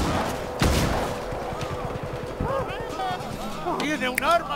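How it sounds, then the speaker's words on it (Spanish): Gunfire in the Just Cause 3 video game: sharp shots crack out with music and effects, mixed in with game dialogue and speech. "tiene un arma. ¡Disparos!"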